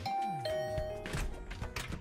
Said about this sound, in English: I rang the bell by the side of the door